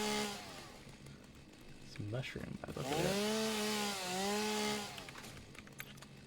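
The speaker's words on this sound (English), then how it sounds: "I can chainsaw this." A chainsaw in the video game Satisfactory revs up and cuts, its buzzing engine rising and holding steady for a couple of seconds, while someone talks over the start of it.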